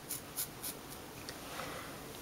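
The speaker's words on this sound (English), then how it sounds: "I'm gonna grab my brush again and then work the ends" A hairbrush sweeps through the ends of long hair during an at-home trim of side-swept bangs, giving a few soft, close bristly strokes in a quick rhythm, then a faint, steady rustle.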